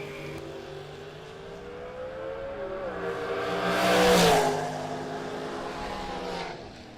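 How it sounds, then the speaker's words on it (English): Ford Mustang drag car launching at a drag strip race, engine rumbling and revving with rising harmonic tones, a loud swell peaking mid-clip as it roars away, then a steady engine drone continuing. "The Mustang will leave first."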